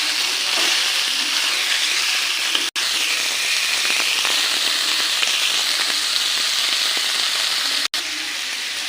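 Minced keema meat fries in a pan with garlic paste in a dense, loud, continuous sizzle and crackle, close up, with no talk over it.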